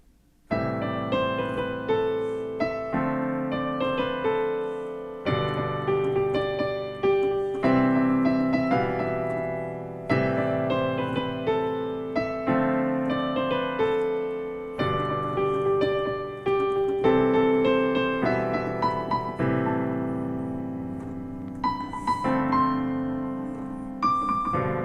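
Solo piano plays the chorus melody of a pop song in an easy arrangement, a steady stream of close, clear notes and chords with left-hand accompaniment, no voices.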